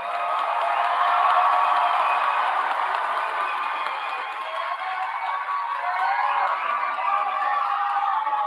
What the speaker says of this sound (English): let's give a round of applause for our graduates here tonight